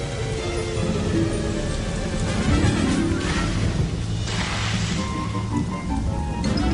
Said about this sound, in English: Rain pounded the earth.